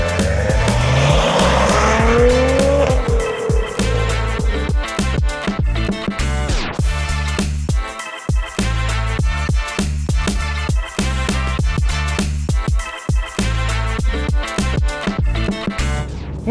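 Maserati Ghibli S Zegna pulling away hard from a standstill, tires squealing briefly before the engine climbs loudly through repeated gear changes, close and continuous throughout.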